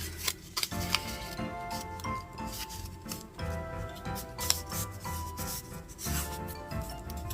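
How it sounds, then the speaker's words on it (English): Sheets of origami paper creased and folded by hand while making a ninja star, giving soft close rubbing and crisp rasping scrapes with small ticks, repeated in short bursts and alone without talk. "I will fold this one the opposite direction"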